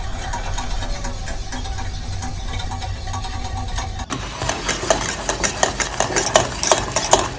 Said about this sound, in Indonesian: masak dengan api kecil sampai mendidih sambil diaduk